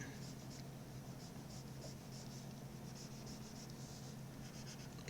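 A pencil scratches across paper while drawing a frame around a fantasy illustration, giving soft, close, continuous scribbling strokes in short bursts over a steady low hum.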